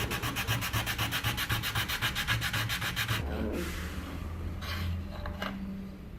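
Sandpaper rubs the wooden neck pocket of a bass guitar in quick rhythmic back-and-forth strokes for a few seconds, then slows to a few softer scrapes, close and clear with no voices.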